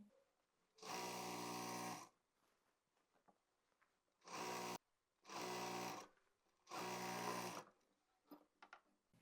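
Sewing machine stitching a Pakistani gharara, running in four separate bursts of steady whirring, each a second or so long, with quiet gaps and faint handling noises between them, close and alone.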